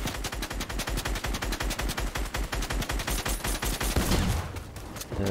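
Rapid automatic gunfire in the video game Fortnite, a fast steady burst of close, loud shots that fades out near the end.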